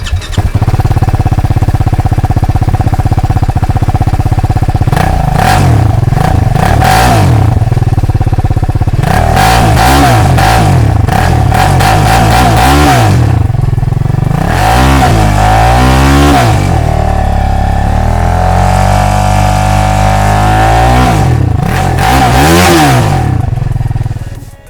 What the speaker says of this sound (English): you have a new race muffler with a racy sound